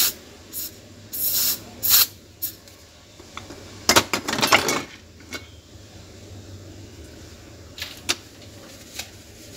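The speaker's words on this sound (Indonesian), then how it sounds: "Nah, kita semprot saja dengan kontak cleaner." Contact cleaner is sprayed into the fan of an HP ProBook 4420s laptop in a few short, close hissing bursts, separated by quiet gaps and light handling clicks.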